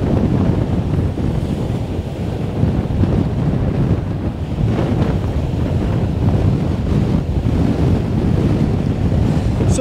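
Strong storm wind roars across the microphone while waves crash against beach rocks after Storm Kathleen, a loud continuous rush with no voices.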